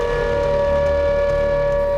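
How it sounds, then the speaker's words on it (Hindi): An air raid alert siren sounds in Tallinn, Estonia, a loud, steady, unbroken wailing tone throughout. "एस्टोनिया की राजधानी तालिन में अचानक एयर रेड अलर्ट के सायरन गूंजने लगे"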